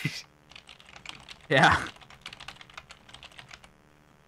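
Fast clicking keystrokes on a computer keyboard come in quick, irregular bursts, with a brief loud clatter near the middle and a short spoken word at the start.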